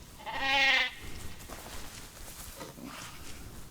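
A female Dall sheep in the Planet Zoo video game gives one loud, tonal bleat lasting under a second, followed by quieter ambient game sounds with no talk.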